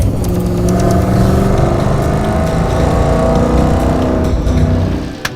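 A race car on a lapping track gives a loud, sustained engine roar heard from on board, holding high revs at near-constant pitch before easing off at the very end.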